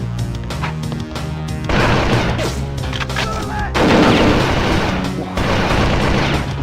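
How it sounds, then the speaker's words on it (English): Gunfire in the N64 shooter Perfect Dark, a loud, dense run of repeated shots and booming blasts layered over game music, continuing throughout with no pauses. "Shooting at me."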